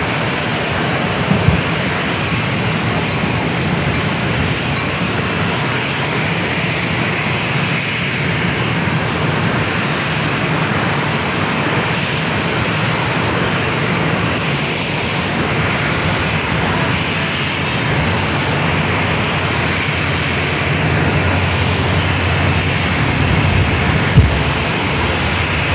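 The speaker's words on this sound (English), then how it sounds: "9-year-old 787-9 Dreamliner up next." A nine-year-old Boeing 787-9 Dreamliner at San Diego airport gives a loud, steady jet-engine roar that holds at an even level from start to finish, with no voices over it.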